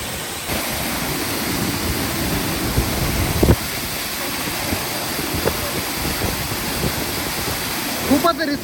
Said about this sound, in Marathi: पाण्याचा प्रवाह बघा केवढा आहे.